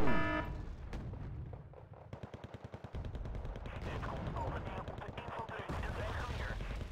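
Rapid machine gun bursts crackle amid a battlefield din of other gunfire and rumbling in Wargame: Red Dragon, a real-time modern warfare strategy game, with a steady run of sharp shots near the middle.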